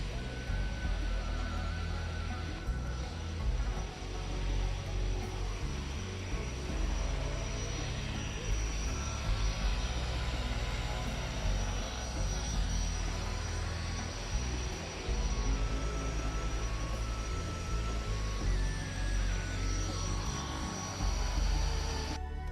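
Propeller plane at Lukla airport in Nepal, the short upward-sloping mountain runway, a continuous loud engine drone with rumbling low end filling the whole stretch, heard alone without talk.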